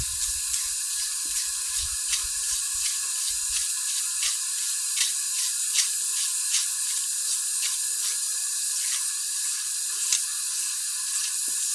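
Compressed air hisses steadily into an engine cylinder during valve spring replacement on a Stage 4 Toolie cam build, a continuous bright hiss with faint rhythmic ticks throughout and no talking.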